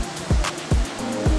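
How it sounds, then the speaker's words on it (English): A waterfall at Cafe Popko in Seoul rushes in a steady broadband wash, with deep rhythmic thumps pulsing through it. "It's famous for their waterfall."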